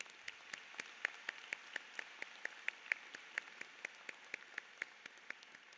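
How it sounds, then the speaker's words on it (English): Sparse, scattered hand claps from a commencement ceremony audience, individual sharp claps spaced irregularly and fairly faint, as if a thin crowd or distant room, with no talking over them. "Let's give them a round of applause"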